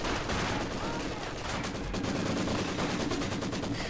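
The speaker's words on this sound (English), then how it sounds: "Maxims have opened up." Maxim machine guns firing in a war strategy video game, dense rapid gunfire bursts layered over each other, continuous and loud throughout.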